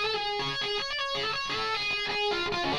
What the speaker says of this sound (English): you start being able to do triple tracking. And that sounds kind of like this.